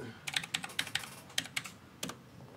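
Typing on an Aukey gaming keyboard gives about a dozen crisp, close key clicks in an uneven rhythm. Clusters of quick taps are separated by brief pauses, with no talking.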